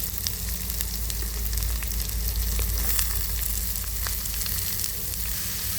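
Finely chopped onions fry in hot oil with cumin seeds and curry leaves, giving a dense, continuous loud sizzle that holds steady throughout without any talk.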